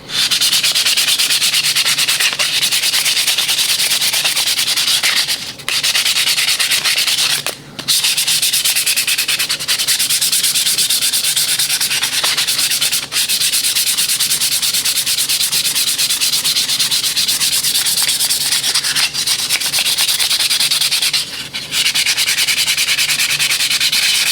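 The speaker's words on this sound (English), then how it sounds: "so we got the spoon all sanded down, nice and smooth" Continuous rhythmic rasp of sandpaper smoothing a wooden spoon, close and loud, with a few brief pauses between strokes.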